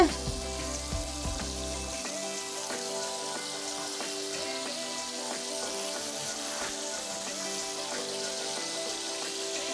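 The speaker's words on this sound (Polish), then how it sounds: "I teraz już będę smażyć ostatnią porcję." Steady, close sizzling of cauliflower, chicken and mozzarella cutlets frying in hot oil in a pan, continuous crackle with no talking.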